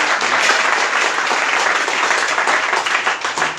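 Loud, steady applause from a church congregation during a worship service, many hands clapping together in a thick continuous wash at close range, with no talking.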